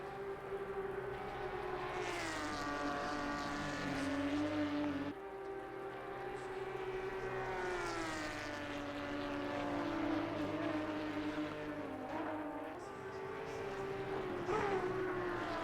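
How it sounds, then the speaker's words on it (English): Porsche Cup race cars with flat-six boxer engines howl past in a race, their high rising and falling engine notes sweeping by in waves, fairly loud and sustained with gear changes. "Yeah, I love those flat six boxer motors."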